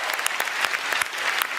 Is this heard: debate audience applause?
yes